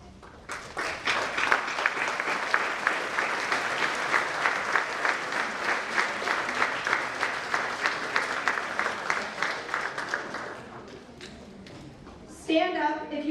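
An audience at a nursing pinning ceremony breaks into sustained applause, dense hand clapping from a large hall that holds steady for about ten seconds before tapering off, followed by a brief snatch of voice.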